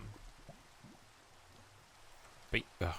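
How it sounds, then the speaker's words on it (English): Rain falling in the Minecraft video game, a soft, steady patter with faint drips, heard quietly under a person talking, followed by two sharper sounds near the end. "it's raining."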